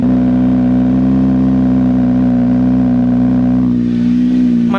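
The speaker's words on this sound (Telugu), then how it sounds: "ఇప్పుడు మన బైక్ని అయితే స్టార్ట్ చేద్దాం పదండి గాయ్స్" Kawasaki ZX-6R sport bike fitted with an IXIL full-system exhaust runs loud and close in a steady, throbbing idle, its tone shifting slightly near the end.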